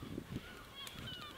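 A human voice imitates a bird chattering with its beak, giving a run of nasal, goose-like honks and clucks at close range, close to a storyteller's campfire speaking voice.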